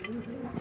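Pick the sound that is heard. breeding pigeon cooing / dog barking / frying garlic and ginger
breeding pigeon cooing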